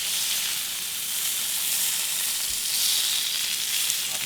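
A camp burger patty fries in hot oil, giving a loud, steady, close sizzle that hisses on without a break while the patty is flipped.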